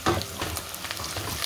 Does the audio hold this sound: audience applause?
no